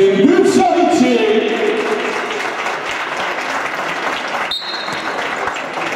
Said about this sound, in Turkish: Kocaman alkışlar gelsin Gülşah için.